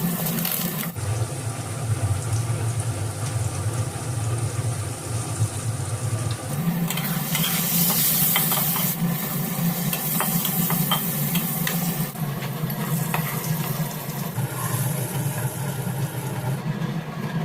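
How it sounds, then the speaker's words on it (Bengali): Potatoes fry in three teaspoons of mustard oil with salt and turmeric in a hot karai, a steady close sizzle and crackle that continues without a break, with stirring scrapes surging partway through. "গরম কড়াইয়ে থ্রি টিস্পুন সর্ষের তেল দিয়ে আলু দিয়ে দেবো লবণ আর হলুদ দিয়ে দু মিনিট ধরে আলুটা ভেজে তুলে নিই"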